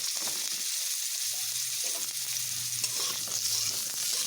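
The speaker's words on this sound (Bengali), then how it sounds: "এবার আমি এখানে আমার রেডি করে রাখা পটলগুলোকে ভেজে নেব।" Pointed gourds (potol) frying in hot oil give a steady, close sizzle with a soft low bubbling underneath, continuous throughout with no voices.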